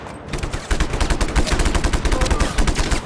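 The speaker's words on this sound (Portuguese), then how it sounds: "eu estou a levar tiros todo o lado" Rapid gunfire from the open-world action video game Just Cause 3 on PS4 during an explosive base attack, dense overlapping bursts of automatic shots rattling continuously and loudly throughout.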